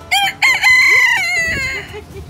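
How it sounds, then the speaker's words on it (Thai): A rooster crows in a bright, wavering call lasting about two seconds, loud and close, with a short clucking note before it. "ไก่ขันยังไง"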